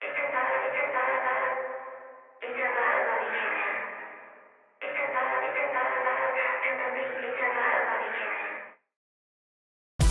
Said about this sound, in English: The next time you're looking for a reverb with a side of audio destruction, FutzVerb has you covered